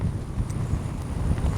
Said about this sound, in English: Man, it's windy.